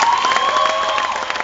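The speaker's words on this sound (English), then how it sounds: "I need you guys to encourage her with some applause right now" Audience at an impromptu speaking contest applauding loudly and continuously with some cheering, a dense, close burst of clapping over a short span.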